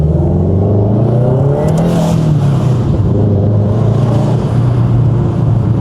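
A car engine fitted with a new intake revs loudly and close, its deep throaty roar climbing and settling with a steady rumble underneath.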